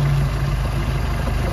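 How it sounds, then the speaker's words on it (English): A Mercruiser 3.0 boat engine idles steadily after being returned to normal ignition-module timing, a continuous close low hum with a faint high whine and no talk. "I've now returned the engine back to normal operation."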